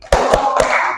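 Children clap their hands together in a classroom clapping game, three sharp claps landing close together amid a busy, reverberant room tone.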